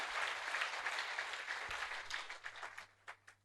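Applause from a church congregation at a celebration day, a dense wash of clapping that fills most of the moment and then thins into a few scattered claps at the end.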